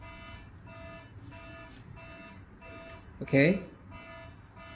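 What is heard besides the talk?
temperature alarm from Telpo face recognition device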